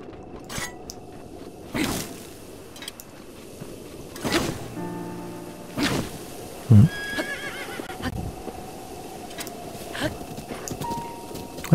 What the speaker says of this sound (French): Alors, mon cheval, est-ce que t'es dans le coin? T'es dans le coin, oui, parfait.